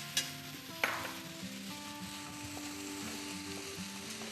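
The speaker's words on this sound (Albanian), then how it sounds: "Tani do të shtojmë orzon tek gjithë perimet me ngjyra" Orzo stirred into sizzling onion and colorful vegetables in a pan for a chicken pilaf: a steady sizzle with scraping, clicking stirring sounds and two sharper knocks early on, with no voices.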